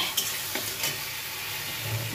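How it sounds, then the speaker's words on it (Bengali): Spices being stirred and fried in a pan for a Bengali home-cooked dish, a continuous close sizzle with a few sharp scrapes of the spoon near the start, no talking. "মশলা দিয়ে দিলাম,"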